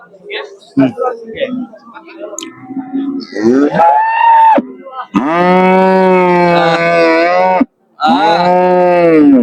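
Crossbred bulls at a village cattle market in Nakla moo loudly and close by, giving long drawn-out calls one after another, with brief background chatter and noise at the start.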